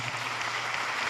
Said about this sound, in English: Ladies and gentlemen, applause for Professor Kirumira.